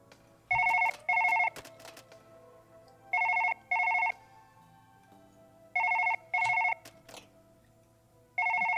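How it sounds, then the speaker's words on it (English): An old-style telephone ringing in the video game Surgeon Simulator 2013, repeating in paired double-bursts with short gaps between, steady and clear over a quiet low background hum. "Yes, I know, phone call."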